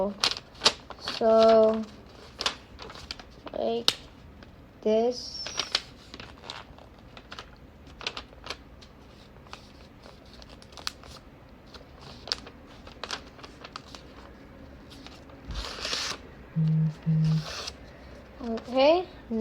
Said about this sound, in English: So first we need to fold this square paper in a triangle.